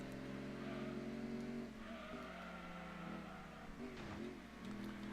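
Race cars in Gran Turismo 2 drone and rev together through a tense race, engine tones rising and falling steadily with a brief squeal or skid near the end, loud and continuous with no talking.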